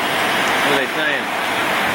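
Strong gusting wind from Tropical Storm Andrea on Captiva Island, a loud broadband roar buffeting the microphone throughout, with a voice speaking faintly beneath it.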